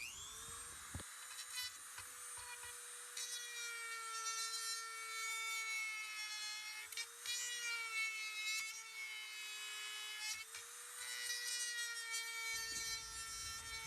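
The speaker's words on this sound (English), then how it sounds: "I can take a Dremel and then Dremel the rest of this out" Dremel rotary tool cutting out a hole for installing a heated seat, a high, steady whine whose pitch dips slightly as it bites into the material, continuous and close for over ten seconds, without speech.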